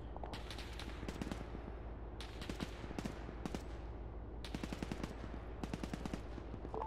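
Rapid bursts of automatic gunfire during an Arma 3 battle, several rattling strings of shots in rhythmic clusters over a steady low rumble of combat, fairly distant and quiet.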